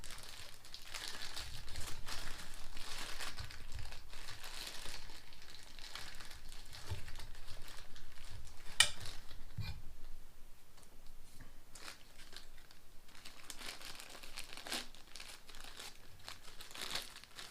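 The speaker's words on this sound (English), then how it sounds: "find a bag that don't have any holes in it or a piece of plastic, and I like to stick it over the carburetor" Plastic bag crinkling and rustling continuously as it is worked over the carburetor of a four-wheeler, close and fairly quiet, with one sharper crackle midway and no talking.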